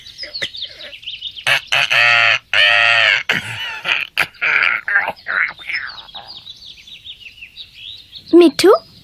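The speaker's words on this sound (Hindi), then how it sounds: "ओह तोता, बहुत प्यारा है।" A cartoon parrot squawks and chatters in bright, strained calls, interleaved with a voice and other cartoon speech, ending in a sharp rising squawk.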